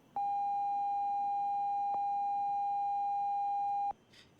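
Altitude alarm in an IL-76 cockpit in the X-Plane 12 flight simulator sounds one loud, steady electronic tone lasting nearly four seconds, then cuts off abruptly.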